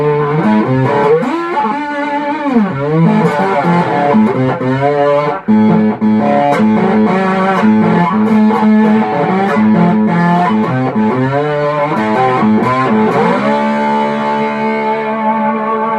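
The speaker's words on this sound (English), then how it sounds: "A little bit extra distortion with a pedal." A two-string cigar box diddley bow electric guitar plays through a distortion pedal into a small 15-watt amp, a gritty, sustained bluesy riff with sliding notes continuing loudly for the whole stretch.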